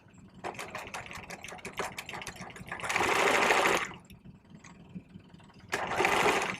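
A sewing machine stitches across a pressed-open seam on a vest, running in rapid needle-clicking bursts with short pauses between them, two louder sustained runs standing out, close and clear with no talk.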